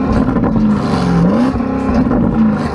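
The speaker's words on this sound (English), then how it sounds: "rev the car up." A Porsche Cayenne Turbo GT engine is revved while stationary and held against its soft limiter, giving a loud, close, steady drone with slight pitch wobbles and no talk.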